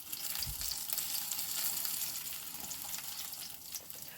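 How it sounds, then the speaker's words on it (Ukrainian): Steady oil sizzling from cheese pancakes (syrnyky) frying in a pan, a continuous bright crackle with no talking. "Поки я смажу першу порцію сирників"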